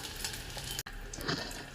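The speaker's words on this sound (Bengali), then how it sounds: "এইভাবে আমি অল্প অল্প করে সমস্ত কুরকুরেগুলোকে ভেজে নেব।" Rice-flour kurkure snacks made from leftover rice frying in hot oil, giving a steady close broadband sizzle with a brief cut near the middle and no talk.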